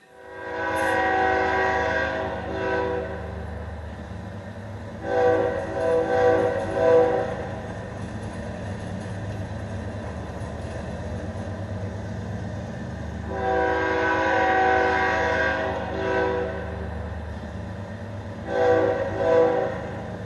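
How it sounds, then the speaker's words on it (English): A passenger train travels through the Karoo semi-desert, rolling with a low, steady rumble while its horn sounds in four long blasts, two close pairs spread across the run, moderately loud and with no voices. "Their train trip passed through the Karoo, a beautiful semi-desert landscape."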